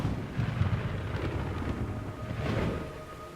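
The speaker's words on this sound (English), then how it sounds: "It's raining blood." A rainstorm in the Metal Gear Solid 3 video game, a low rumbling wash of falling rain with swelling thunder-like surges, moderately quiet and without any talking.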